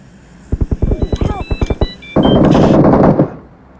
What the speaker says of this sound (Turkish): Leyla'yı vur Leyla'yı.